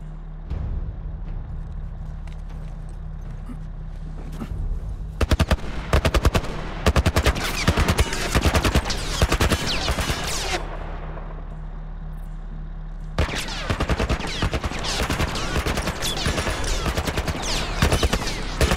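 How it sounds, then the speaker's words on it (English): A .50 caliber machine gun in The Last of Us hammers out long, loud bursts of rapid fire, broken by a short pause before another sustained volley, over a low rumbling hum. "a 50 caliber machine gun being aimed at me"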